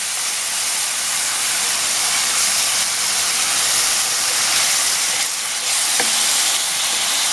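Chopped onions sauté in a pan for a spaghetti meat sauce, giving a steady, loud hiss and sizzle throughout with no pauses, plus a brief faint clink near the end.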